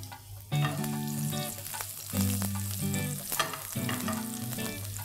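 Cumin seeds and finely chopped green chillies fry in hot oil for an egg tawa masala, giving a close, continuous sizzle and crackle with no talking and faint tonal sounds in the background.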